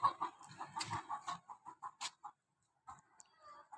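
Pet chickens give a close run of rapid clucks and soft bawks, pause briefly, then start up again with a few quieter clucks.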